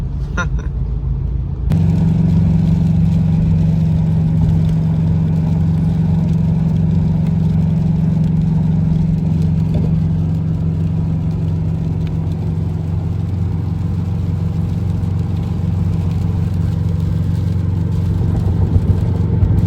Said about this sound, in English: here we are in traffic